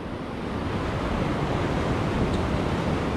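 Ocean swell breaks steadily along a rocky Brittany shore at a sea bass fishing spot, a continuous loud wash of surf with no pauses and no voices.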